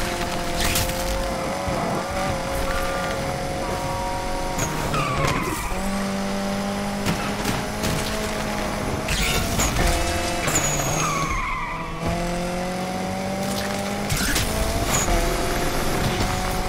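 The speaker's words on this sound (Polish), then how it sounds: "jak na zakręcie czasami trochę gazu dodam, to wtedy samochód lekko wchodzi w drift" A car drifting through corners in Need for Speed Unbound, with sustained, wavering tire squeal over a steady engine drone that shifts pitch as the car slides, loud and continuous throughout with no talking.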